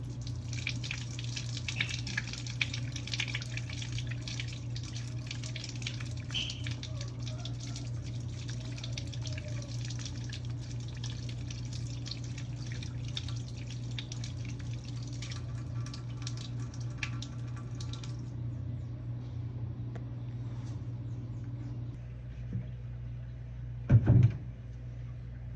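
Water running from a household tap, a steady close stream lasting most of the span before it stops, followed by a brief knock near the end.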